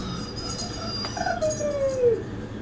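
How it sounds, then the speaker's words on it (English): A dog's thin, high whine rises then slides slowly downward over a second, heard indoors over a faint background hum. "That was my dog with a little whine"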